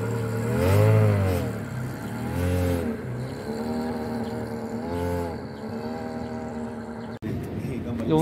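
A Ferrari 430 fitted with an aftermarket exhaust revs loudly and close by at a supercar gathering, with several rising and falling engine sweeps and a brief cut near the end.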